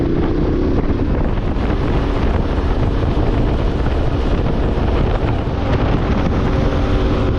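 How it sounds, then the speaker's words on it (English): Strong wind roars and buffets the microphone continuously, a loud rumbling gust with no letup and no talking. "Pretty windy."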